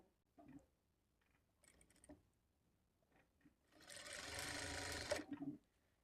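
A sewing machine stitches a lining blouse with a half-inch seam margin, one continuous whirring run of about a second and a half following soft handling noises of fabric being positioned.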